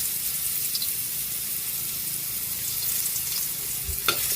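Garlic and ginger sauté in hot cooking oil as the base for a coconut-milk fish stew, giving a steady close hiss of sizzling with a brief utensil clatter near the end.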